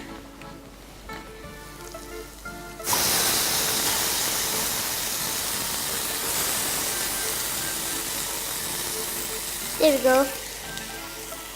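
Tomato puree hits a hot saucepan with a sudden loud sizzle and hiss that holds steady, after quiet kitchen clatter; a brief voice speaks near the end as the frying continues.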